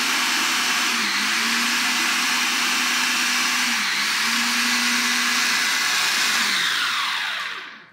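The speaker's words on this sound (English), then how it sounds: "Okay, let's fire this up again. They just have to pulse the stuff." A blender-style mixer whirs through cake batter with apple and cinnamon, running in several pulses with the motor pitch dipping and rising between bursts, loud and close, before winding down at the end.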